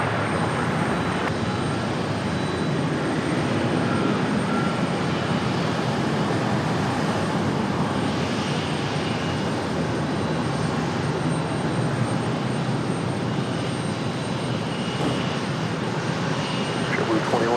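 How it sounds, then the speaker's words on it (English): Jet engines of a JetBlue Airbus A220 hum and roar at Raleigh-Durham airport in a steady, dense drone, with a voice talking over it. "We've got JetBlue on the move. I believe this is our A220."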